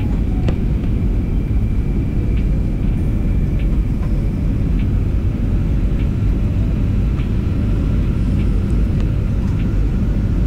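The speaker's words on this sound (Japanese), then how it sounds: "そろそろ着陸態勢に入りました。" Inside a passenger airliner descending toward a landing in Thailand, a dense, steady cabin rumble of engines and airflow fills the whole stretch, loud and unbroken.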